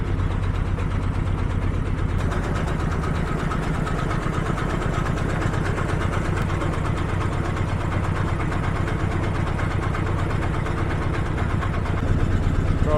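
A trawler boat engine runs on the Padma river near Mawa, a loud continuous low drone with steady mechanical throb for the whole stretch and no voices.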